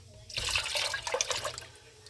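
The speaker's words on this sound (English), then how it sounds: "put a little bit of water in there." Water poured into a pot of chili, a steady splashing pour lasting about a second and a half at close range, then tapering off.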